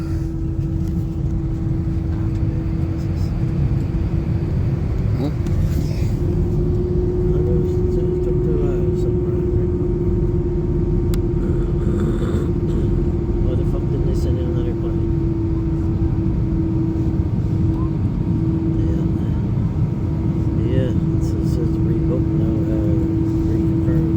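A small plane's engine drones steadily inside the cabin, a constant close rumble with a sustained tone, on the same aircraft that broke down the day before.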